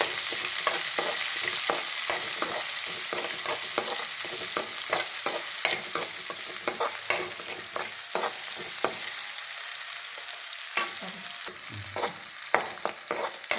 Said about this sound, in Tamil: பெரிய வெங்காயத்தை பொடி பொடியாக அரிஞ்சு வச்சுருக்கேன் இதை வதக்கிக்கணும்